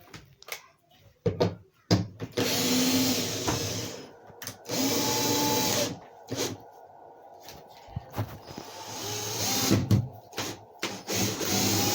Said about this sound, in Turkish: Şimdi birer vida daha fazla atıp işi garanti alıyorum.